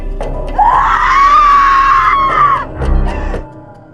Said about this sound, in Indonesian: Hingga akhirnya dia menjerit sejadi-jadinya